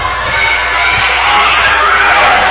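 Boxing arena crowd roars steadily throughout a professional bout between Luzimar "Tyson Tigre" Gonzaga and Lucas Damián Molina, a dense, continuous wash of cheering and shouting with no individual voices standing out.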